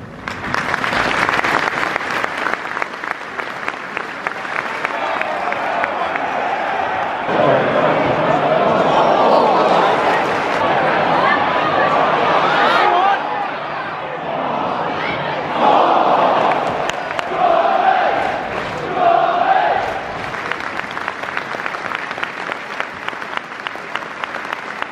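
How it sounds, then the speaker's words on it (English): Football stadium crowd at a Portsmouth match gives a minute's applause, a loud sustained wash of clapping with swells of crowd noise and scattered shouts throughout. "We're going to remember him now with a minute's applause, which will begin and end on the referee's whistle."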